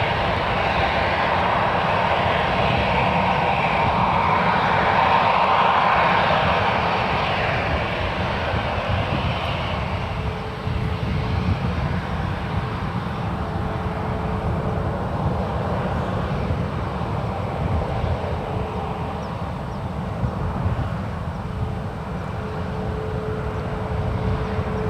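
Jet engines roar steadily as airliners, including Alaska flights, power up and take off side by side from runway 1 right at San Francisco International Airport, a loud sustained rumble that swells early then eases into a distant drone.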